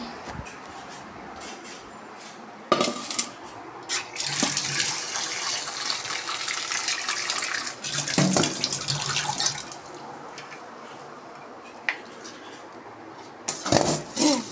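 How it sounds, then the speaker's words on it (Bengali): Cardamom and cinnamon being rinsed under running water, a steady close splashing stream with bursts and breaks as the whole spices are washed by hand. "ময়লা থাকে তাই ধুয়ে নিলাম"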